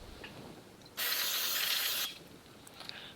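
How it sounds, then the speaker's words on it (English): Carb cleaner sprayed from an aerosol can onto a stainless steel burner frame, one steady hiss of about a second, fairly close and loud against a quiet background, starting and stopping abruptly. "we're going to go ahead and shoot this with a little bit of carb cleaner."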